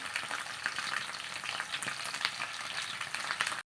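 Fish slices frying in coconut oil with curry leaves in a pan, giving a close, dense and steady crackling sizzle with small pops throughout, no voices, until it cuts off near the end.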